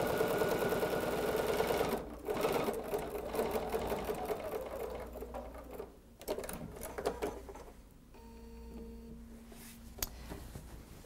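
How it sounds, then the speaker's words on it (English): A sewing machine stitches a quarter-inch seam through batting for a holiday stocking, its needle chattering in a fast steady rhythm close by, stopping and starting a few times before a brief high mechanical whine near the end. "So we'll just sew our 1/4 inch seam."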